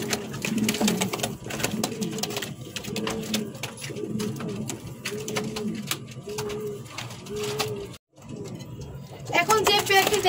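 A Giribaz running pair of pigeons coos close by in a steady run of low, rolling calls, one after another, with a brief pause near the end before the cooing resumes.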